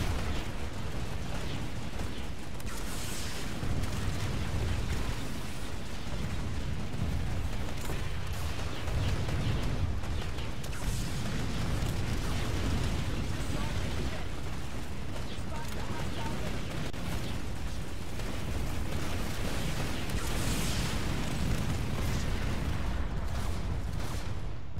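Continuous rocket launcher explosions and gunfire in a PS2 action game, a dense, steady wall of booms and blasts with no pauses, with someone talking over it.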